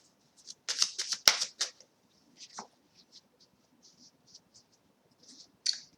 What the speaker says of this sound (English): So now let's just get a card from the Oracle.